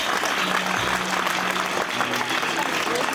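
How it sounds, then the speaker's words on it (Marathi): Steady applause from a crowd at an honours ceremony for a martyred soldier, a dense continuous clapping with voices heard beneath it. "टाळ्या कमी नाही झाल्या पाहिजेत प्लीज."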